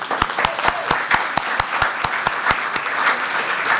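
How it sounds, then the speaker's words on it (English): An audience at a Greensboro mayoral candidates forum claps in a sharp, steady rhythm of distinct loud claps, with a softer wash of scattered clapping and crowd noise underneath. "let's give you a round of applause for coming out tonight"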